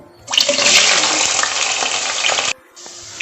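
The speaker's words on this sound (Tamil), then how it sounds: "இப்போ இதில் வந்து நம்ம வந்து ஸ்லோவில் வச்சுட்டு நம்ம வெங்காயம் வணக்க போகிறோம்." Onions sautéing on low heat in a pan for chicken biryani, a steady close sizzle that cuts off abruptly, then resumes briefly after a short pause.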